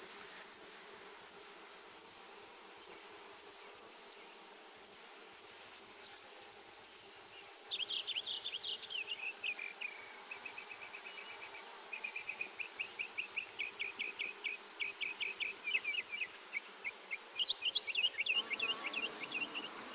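Honey bees buzzing during a hive split as brood and honey frames are moved to a vacant hive body, a faint, steady series of short buzzing pulses coming in quick bursts throughout.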